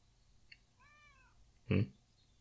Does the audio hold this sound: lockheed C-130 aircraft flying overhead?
no